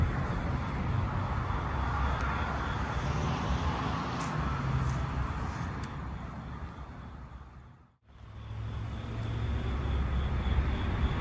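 A Tesla Robotaxi pulls away and drives off, with a continuous broad hum of road and tyre noise and traffic. It briefly drops out to near silence, then resumes at a similar level.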